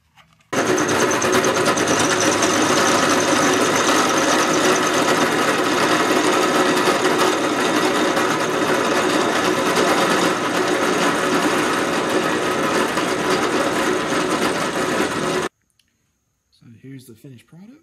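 A milling machine cuts a flat spot into the receiver of a Mosin Nagant rifle for a scope mount, a loud steady whirring grind running without a break for about fifteen seconds before stopping abruptly.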